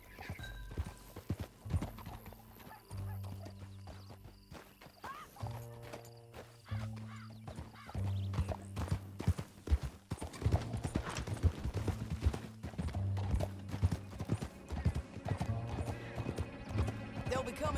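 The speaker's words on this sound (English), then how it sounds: "Back on your horse. Let's get after them." Horse hooves galloping in Red Dead Redemption 2, a steady rapid clip-clop under bursts of louder game sound, with a few whinnies and snorts mixed in.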